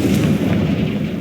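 A Confringo fire spell blasts in the game Hogwarts Legacy, a loud, booming, deep rumbling explosion that fills the whole moment without any talking.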